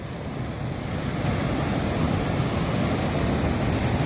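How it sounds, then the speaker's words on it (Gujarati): Seawater surges and rushes against the shore beside the Siddheshwar Mahadev shrine, a loud continuous roar that swells slightly, with wind buffeting the microphone and no voices. "જો તો ખરો પાણી આવે તણાઈ જાય એવું પાણી"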